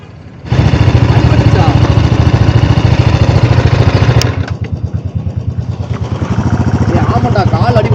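A motorcycle engine labors up a steep mountain road on a hill ride, starting abruptly with a loud, steady throbbing drone that dips briefly and then picks up again close to the microphone.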